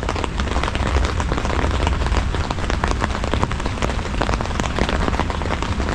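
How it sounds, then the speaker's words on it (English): Heavy, steady rain pours down and patters on a woodland camping shelter overhead, a dense, constant hiss with no pauses. "Can't tell it's raining outside at all other than the sound."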